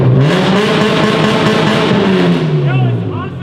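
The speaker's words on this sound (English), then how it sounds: "We got you revving it." A drifting car's engine revs loud and close, its pitch falling and rising as it slides, with a hint of tire noise toward the end and voices talking over it.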